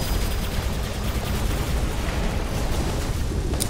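Robot gunfire in the video game War Robots: a dense, continuous barrage of weapon fire with rumbling low impacts, steady and loud throughout with no speech over it.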